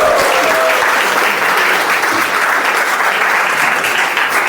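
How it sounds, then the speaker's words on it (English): Loud, dense applause from a Toastmasters-style meeting audience welcoming the best speech evaluator, sustained and even from start to finish. "Let's welcome with a huge round of applause the best evaluator, speech evaluator of today's meeting"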